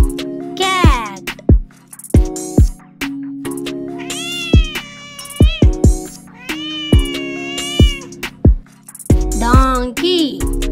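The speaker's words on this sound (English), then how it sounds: "Cat." Repeated loud meows from a cat, some long and wavering, others short and yowling, fill the stretch over a steady tonal music bed with sharp percussive hits.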